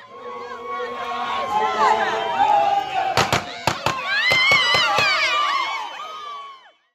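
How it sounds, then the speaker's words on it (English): Gunshots ring out outside Nkandla amid a swelling pro-Zuma crowd, several sharp cracks cutting through loud, dense shouting and chanting voices, with the crowd noise continuing around them. "others were seen and heard discharging their firearms in the public"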